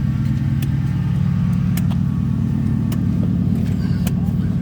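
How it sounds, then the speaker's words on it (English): A 2003 Mercury Grand Marquis engine runs at idle after starting, a steady close low rumble with a few sharp clicks on top. "We got the car to start."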